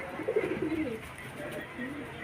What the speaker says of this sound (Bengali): পায়রা দুটো খুব ভালো পায়রা